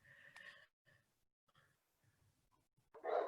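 Dogs bark at a mailman outside in a few soft, muffled yelps, followed by one louder bark at the end. Long quiet gaps separate the barks.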